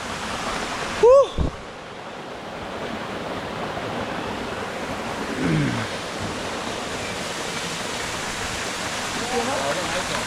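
Steady, loud rushing water from the Zorro waterfall in the Trinidad jungle fills the whole stretch, with a brief high voice or whoop near the start.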